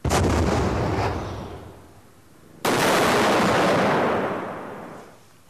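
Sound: replica bazooka warhead exploding against steel

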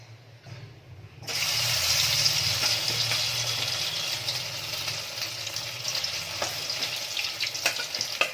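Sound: egg-coated soya chunks frying in hot white oil

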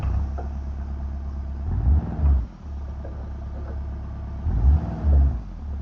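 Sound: Volkswagen Passat car engine driving in BeamNG.drive video game

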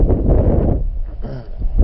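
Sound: wind blowing into microphone

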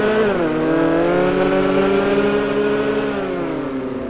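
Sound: Ferrari California car passing by in the video game GTA 5

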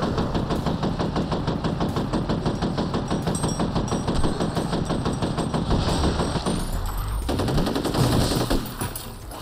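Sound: gunfire shooting ghosts in the video game F.E.A.R

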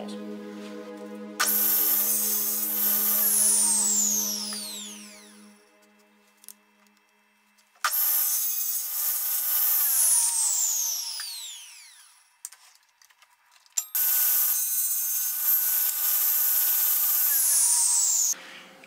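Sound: drill press drilling holes

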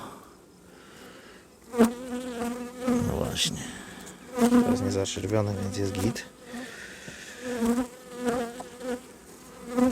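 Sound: honey bees buzzing around an open hive

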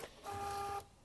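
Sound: Epson T20 printer after holding the feed button

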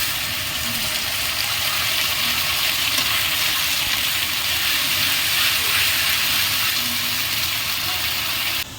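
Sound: frying spice paste with browned onions

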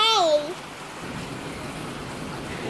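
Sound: rain falling during Hurricane Matthew

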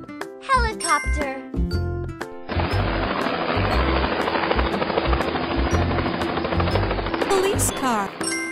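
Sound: helicopter

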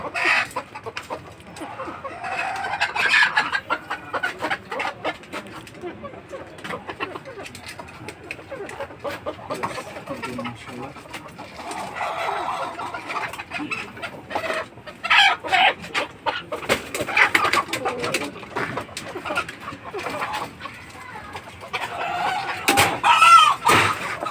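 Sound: chickens clucking

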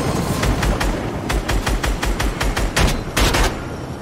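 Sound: gunfire in Fortnite video game

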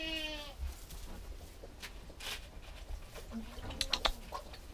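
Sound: goat bleating

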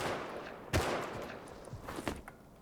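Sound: gunfire in a video game shooter

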